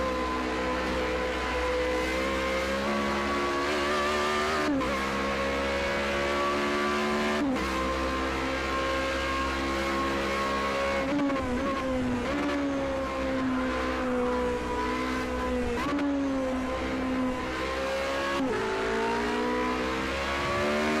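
A Formula Renault 3.5 race car in the game Project Cars 2, its engine screaming steadily at high revs with repeated gear-shift dips and tire noise, loud and continuous throughout.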